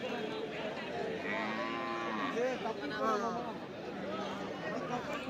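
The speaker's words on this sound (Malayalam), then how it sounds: "ഇവിടെ രണ്ട് മീഡിയം സൈസ് പോത്തും ഒരു എരുമ നിൽപ്പുണ്ട്" Buffaloes at a busy cattle market give several drawn-out, deep moos and lowing calls, fairly close, over a constant murmur of people talking in the background.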